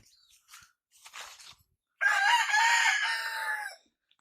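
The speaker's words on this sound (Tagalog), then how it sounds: "Yan pa mga manok dito sa bandang harapan." Chickens outdoors give a few scattered soft clucks before a rooster lets out one loud, drawn-out crow close by, then quiet returns.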